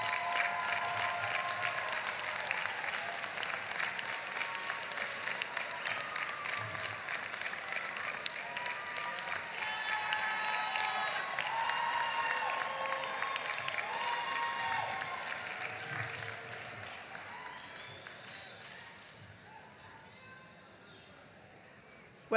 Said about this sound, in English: give them a round of applause and thank them for all that they've done for you